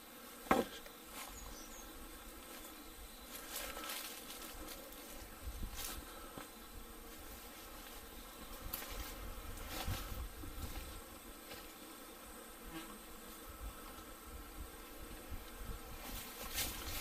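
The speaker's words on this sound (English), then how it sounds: "Industrious hum of bees." A steady, industrious hum of bees near an old wattle and daub house with a front veranda, a dense insect buzz that continues throughout with shifting individual drones passing close by.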